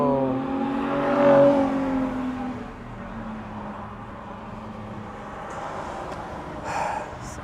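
Passing car with a loud exhaust roars up and fades, a rising rumbling engine swell early on, then quieter road noise with a faint second vehicle later.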